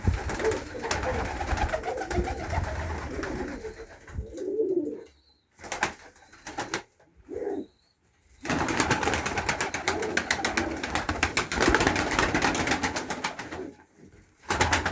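Domestic pigeons kept in a loft and being treated with antibiotics coo in soft, repeated throaty calls close by. Wing flaps and brief rustles come through between the calls, with short quiet gaps partway through.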